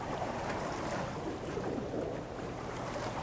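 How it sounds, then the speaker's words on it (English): Incoming tide washing onto a beach at dawn, a faint steady rush of surf and water with some wind noise, continuous and fairly distant, no voices. "So you can see the water is coming in, the tide is coming in"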